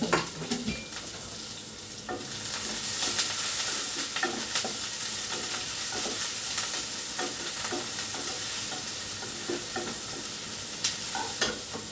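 Onion and curry leaves fry in a pan with a constant, dense sizzle and crackle, close up, with occasional light spatula taps against the pan and no voices.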